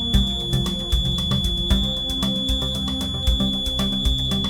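Fire alarm sounding at the security post of a high-rise building, a steady loud electronic tone with repeated pulsing beeps and buzzing, no voices.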